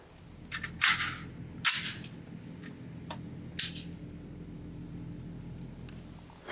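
A CMMG Mk4 Dissent rifle fired at the range: three sharp, close reports at irregular intervals with a few lighter metallic clicks in between, over steady background noise.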